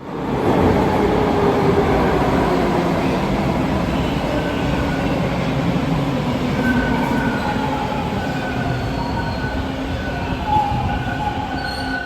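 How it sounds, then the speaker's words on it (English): Toronto TTC Line 2 subway with an older T-Series train, built in 1995, at a platform: a loud continuous rumble of cars and wheels with faint squealing tones, no voices. "Line 2 is exclusively served by these older trains, the T-Series."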